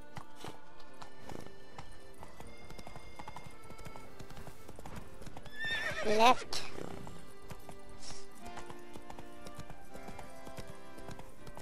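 Horse hooves clip-clop through The Witcher 3: Blood and Wine as the mount gallops along a game path, with a brief louder burst that may carry a whinny, under steady game music and someone talking.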